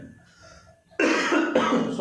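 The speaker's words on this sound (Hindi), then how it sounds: "सॉरी खांसी आ रही है।" A speaker gives two sharp, close coughs in quick succession after a quiet moment, the second following about half a second after the first.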